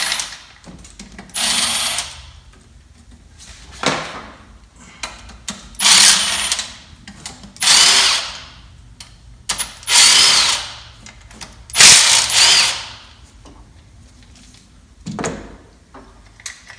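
Engine bolts on a P-pump Cummins come out in repeated loud bursts of a power tool, about seven whirring runs separated by short pauses, close and without talk.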